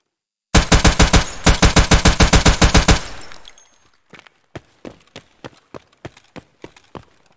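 Pistol fire at a target in the shooter game Escape from Tarkov: a fast, loud burst of about fifteen evenly spaced shots, then a sparser run of single sharp shots with brief gaps, no talk.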